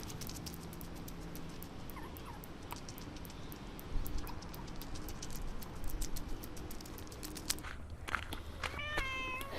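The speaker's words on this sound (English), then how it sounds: "And here's Mazie the cat" A house cat meows a few times at close range among light tapping and clicking, with a faint high chirping near the end and no speech.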